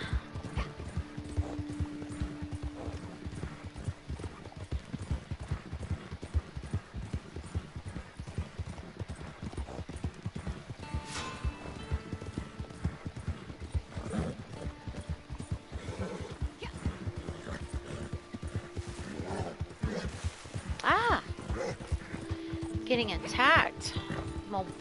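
Horse hooves clip-clop in steady rhythm through Red Dead Redemption 2 near Blackwater, running continuously under a player's talk and game sounds.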